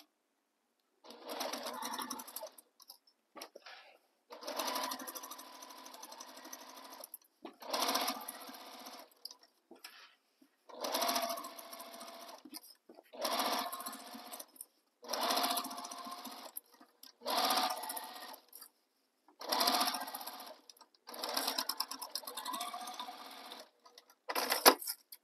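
A sewing machine stitches a tote bag seam in about ten bursts of rapid whirring, each a second or two long and separated by brief pauses, close and with no talking.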